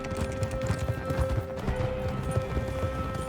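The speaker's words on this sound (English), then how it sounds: "I kind of like this horse. Big beefy horse." A big, heavy horse gallops in Red Dead Redemption 2, with rapid rhythmic hoofbeats thudding continuously over a steady musical drone, close and full.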